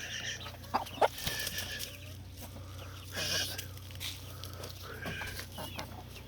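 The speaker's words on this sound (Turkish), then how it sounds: "Anneler, horozlar bunlar." Scattered clucks and a few sharper calls from hens, roosters and young chickens, fairly faint against a steady low hum, with short bursts spread across the clip.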